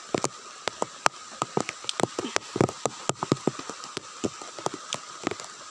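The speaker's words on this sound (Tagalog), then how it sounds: "Ang lakas ng ulan guys." Heavy rain patters steadily on a farm field with dense, irregular drops striking a surface nearby, some louder close impacts standing out against a constant wash.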